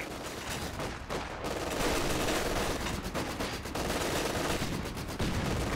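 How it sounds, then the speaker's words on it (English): Enemy gunfire in the video game Company of Heroes 2, a dense, continuous fusillade of rapid shots and bursts that stays loud and steady throughout, with no voices over it. "Enemy firing on us."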